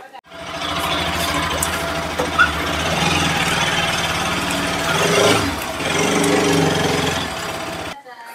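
A motorbike engine, wheeled out and started for a ride, runs at a steady idle with a dense continuous rumble throughout, briefly swelling near the end before cutting off.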